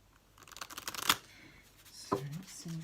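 A tarot deck shuffled briefly before a card is drawn, a short close rustle of cards building to a snap, followed by a little talking.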